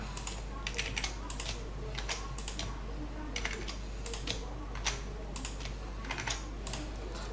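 Someone types on a computer keyboard, the keys clicking in quick bursts and pauses at close range over a low steady hum, with no talk.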